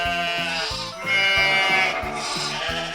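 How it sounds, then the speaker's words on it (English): Sheep bleat loudly and close up in a quick series of wavering calls with short gaps between them, heard alone with no talking. "Next, I'm gonna choose the little sheep."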